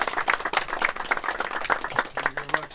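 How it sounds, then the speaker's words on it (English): Audience applause welcomes a speaker at a burial ceremony, with scattered, fairly close hand claps forming an uneven patter. A brief tonal sound is heard near the end. "So let's round of applause."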